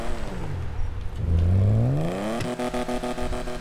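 A right-hand-drive Japanese sports car engine in GTA 5 revs up with a rising whine, drops back, then settles into a steady, loud mechanical drone with a rapid pulsing rattle.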